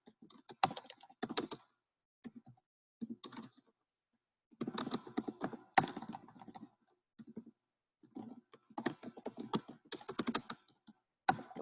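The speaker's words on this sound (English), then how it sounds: "I'm typing." Clicking keystrokes of someone typing on a computer keyboard, arriving in irregular bursts separated by short pauses, close and moderately loud with no talking over them.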